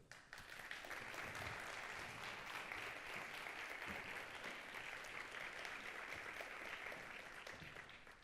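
Applause fills a leadership forum hall as three panelists take the stage, a steady, fairly quiet wash of clapping from a seated audience lasting several seconds.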